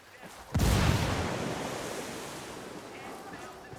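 A frag grenade detonates in Ghost Recon Wildlands with a sudden heavy boom, followed by a long rumbling roar that slowly fades over several seconds.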